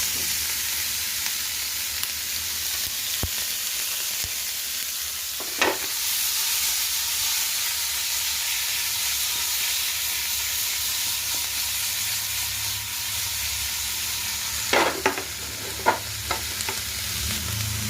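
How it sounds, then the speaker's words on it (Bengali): A cube of butter sizzles steadily in a hot frying pan, a continuous soft hiss with a few brief stirring clicks and scrapes, close and fairly quiet, with no talking. "এবার বাদ বাকি বাটারটাও দিয়ে দিলাম এর মধ্যে।"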